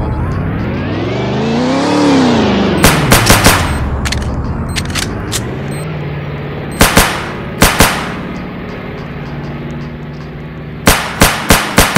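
Video game gunfire in sharp rapid bursts, each a cluster of loud close shots separated by pauses, following a rising and falling engine-like whine at the start.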